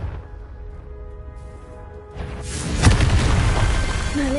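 A fiery blasting spell from the Hogwarts Legacy video game bursts into a loud, booming explosion that rumbles and crackles for a couple of seconds after a quieter lead-in.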